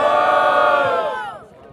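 A crowd at a rap battle in São Gonçalo cheers and shouts loudly as one swelling roar that fades over a couple of seconds.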